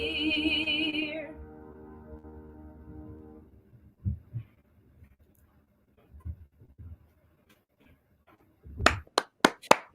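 A few scattered bare-hand claps from a small audience, sparse at first and then a quick burst of sharp close claps at the end, following music that fades out.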